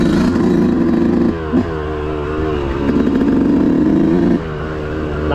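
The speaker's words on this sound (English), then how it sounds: "You guys hear how it's running? Yeah, I just started it up, but take a good listen to the bike." A 2018 Yamaha YZ125 two-stroke dirt bike engine runs steadily nearby, a loud, buzzy idle with brief blips of the throttle rising and falling.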